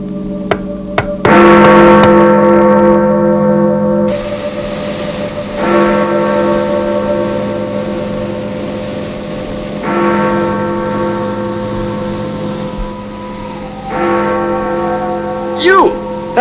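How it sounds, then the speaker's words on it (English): Church bell chimes ringing loud and near, an opening cluster of strikes followed by sustained tolls repeating about every four seconds, each ringing out and decaying into the next. "Interesting chimes you have there."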